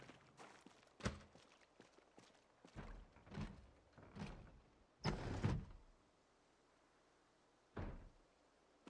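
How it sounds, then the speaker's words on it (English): A zombie pounding on a building door in Project Zomboid: heavy, irregular thuds and knocks, about seven blows spread out with pauses between, moderately loud and with no talk over them. "Now what door is getting hit?"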